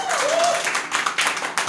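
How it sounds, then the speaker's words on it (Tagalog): A church congregation applauding, a burst of clapping from many hands that swells and thins over a couple of seconds, with a voice speaking over it. "Ang daming pumalakpak, oh."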